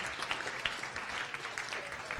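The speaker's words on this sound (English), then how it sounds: "Let's give Roland a round of applause." Audience applause after a science café talk, a brief burst of scattered clapping from a small crowd indoors, moderately faint.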